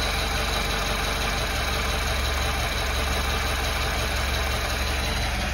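A fully warmed-up Zhiguli car engine, running on A-100 petrol, idles steadily with an even, unchanging hum and hiss, close up and alone.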